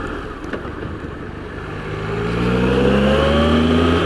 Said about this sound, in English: has a 1215cc triple engine, the triple being the thing that Triumph are so good at.